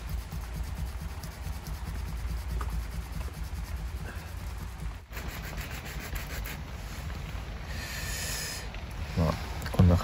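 Deer antler being scraped down into a sewing needle by hand with a primitive tool, a steady close rasping and rubbing that runs through the clip, while people talk quietly nearby.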